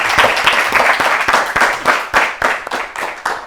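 A studio audience at a children's television quiz show claps in a dense burst of applause, close and loud, fading slightly toward the end.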